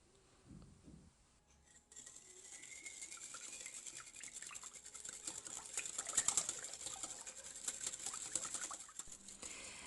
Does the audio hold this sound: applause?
no